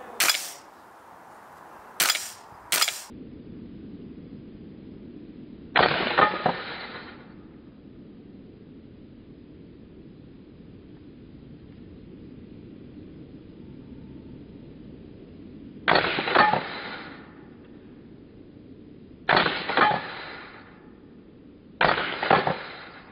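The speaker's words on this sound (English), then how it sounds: "So now the gas blowback airsoft rifle." Gas blowback airsoft rifle fired in single sharp cracks, three rapid shots at the start and then spaced shots with long gaps, each a loud snappy report over quiet background hiss.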